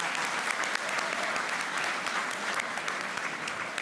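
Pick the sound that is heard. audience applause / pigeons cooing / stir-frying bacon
audience applause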